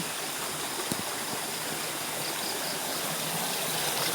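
A clear stream flows steadily, a constant rushing and babbling hiss with no pauses throughout.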